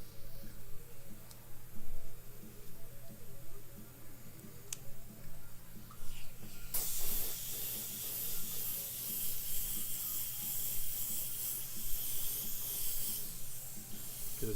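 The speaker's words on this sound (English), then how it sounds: "You can't spray these really wet." Acrylic paint hisses from a spray airbrush onto a model, starting partway through as a steady, close hiss after quieter rubbing and ticking sounds.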